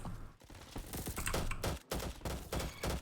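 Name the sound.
burst weapon firing in video game Roblox Bad Business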